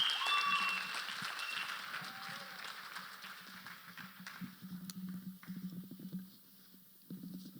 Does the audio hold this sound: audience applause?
yes